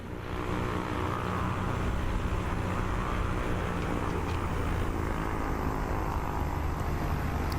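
A Piper Dakota propeller aircraft in Microsoft Flight Simulator 2024 drones with a steady, loud, dense engine roar that holds level throughout, with no voices.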